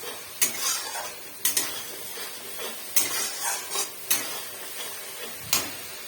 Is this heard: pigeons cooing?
no